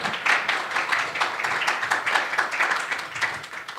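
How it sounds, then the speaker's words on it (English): Moderate applause from a conference audience at an EU event, with individual claps audible in an uneven rhythm, steady and somewhat distant, lasting a few seconds without speech. "Another applause, please."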